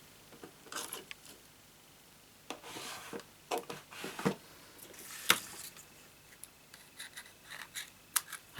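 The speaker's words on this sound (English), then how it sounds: "I'll just get a pair of scissors to cut that." Several short snipping and rasping sounds from scissors cutting thread close by, coming in irregular bursts with quiet gaps between them.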